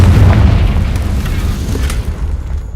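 A Confringo fire spell explodes in Hogwarts Legacy, a loud close boom with a rumbling burst that decays over a few seconds.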